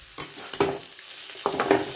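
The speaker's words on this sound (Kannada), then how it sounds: "ತೆಂಗಿನ ತುರಿ ಒಂದು ಟೇಬಲ್ ಚಮಚದಷ್ಟು ಹಾಕಿ ಮಿಕ್ಸ್ ಮಾಡಿದೆ" A spoon stirs grated coconut into a Malabar spinach curry in a pan, making a few distinct scraping strokes spaced apart over a soft background sizzle.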